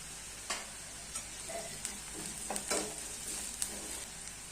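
Sambar tempering sautés in a pan after a spoonful of asafoetida goes in, a steady even sizzle throughout with soft spoon taps and clicks against the pan, no talking.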